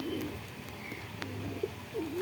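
Giribaj pigeons in a home loft give low, rolling coos, a few short warbling calls heard close over steady background hiss.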